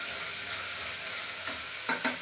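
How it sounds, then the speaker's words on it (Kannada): Sliced onions frying in oil in a pan for chicken biryani give a steady, close sizzle throughout, with a few soft stirring scrapes near the end and no talking. "ಈರುಳ್ಳಿ ಚೆನ್ನಾಗಿ ಕಲರ್ ಕೆಂಪಾಗೋವರೆಗೂ ಚೆನ್ನಾಗಿ ಬೇಯಿಸ್ಕೋಬೇಕು"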